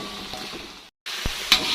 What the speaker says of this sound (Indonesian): Ini kita tumis sampai bumbunya benar-benar matang dan udah cium bau harum ya teman-teman.